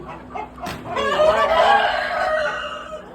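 A white Bresse rooster crows loudly and close in a farm pen, one long drawn-out call after a few short clucks from the chickens.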